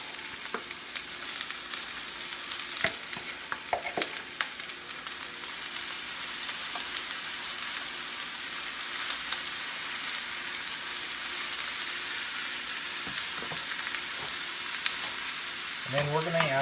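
Grape tomatoes and fresh mushrooms fry in a pan for a spaghetti squash Italiano dish, giving a steady, close sizzle throughout with a few light clicks and stirring knocks.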